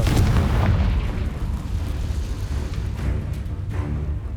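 Fiery Confringo spell blast in the Hogwarts Legacy video game: one loud booming explosion up front that rumbles and fades over a few seconds, with no talk.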